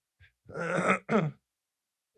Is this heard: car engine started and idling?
no